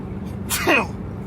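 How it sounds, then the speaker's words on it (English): A single sharp sneeze bursts out close up, a quick explosive hiss with a breathy tail, over a low background rumble. "I'm gonna sneeze."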